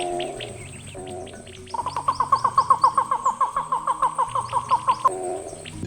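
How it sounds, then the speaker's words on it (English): A great turaco calls in West African jungle in Sierra Leone, a loud rapid run of repeated throaty notes rising into a steady pulsing series, close, over a bed of other bird chatter. "Among them stands out the great turaco."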